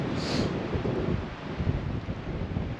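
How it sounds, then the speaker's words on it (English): Strong wind buffets a wild camp, roaring and gusting in a continuous rumbling rush with heavy low-end battering against the microphone. "So it's just the wind itself is just so strong."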